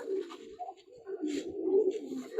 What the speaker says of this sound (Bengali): কবুতর কই উঠে গেছে